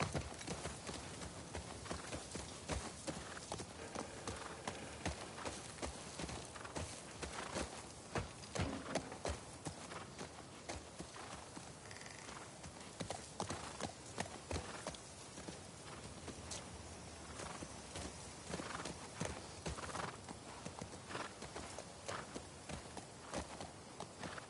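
A horse's hooves clip-clop steadily as it is ridden across terrain in the video game The Last of Us Part II, a continuous walking rhythm with faint ambient background.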